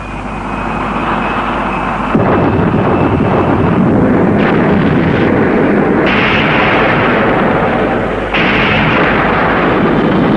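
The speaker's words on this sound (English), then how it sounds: "should we drop a few bombs? It'll keep them quiet for a while." Bombs dropped from aircraft explode in a film battle scene, heavy booming blasts roaring one after another over a continuous loud rumble.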